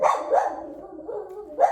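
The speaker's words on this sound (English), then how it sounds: "Dogs walking down the street. Sorry for that interruption." Dogs barking outside on the street: three loud yapping barks in under two seconds, one at the start, one shortly after and one near the end, with no talking.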